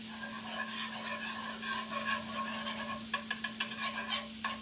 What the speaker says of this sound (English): The whisk.